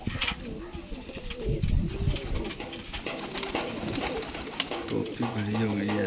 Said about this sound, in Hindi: टैडी कबूतर है माशाल्लाह